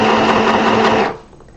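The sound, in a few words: sewing machine back stitching a bonnet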